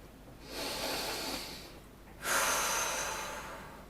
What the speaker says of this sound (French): J'inspire, mon ventre se gonfle, j'expire,